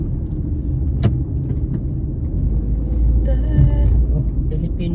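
A BMW car rumbles nearby with a low, steady engine drone that swells slightly midway, while people talk over it and a sharp click sounds near the start.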